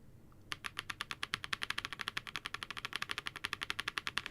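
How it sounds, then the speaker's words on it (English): Rapid, steady typing on Redragon mechanical keyboard keys, with dozens of crisp, even keystrokes in a continuous run after a brief quiet start. The typing is close and moderately loud, with no talk over it. "So if you listen to these Red Dragon keys,"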